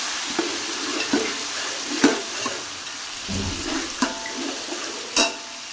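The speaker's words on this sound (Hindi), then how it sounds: "प्याज हमारे ब्राउन हो चुके हैं तो इसमें डालेंगे लहसुन अदरक का पेस्ट, तकरीबन 4 चम्मच।" Garlic ginger paste sizzles in a pan with browned onions, a soft, steady frying hiss broken by occasional spoon clinks and stirring scrapes, with no talk.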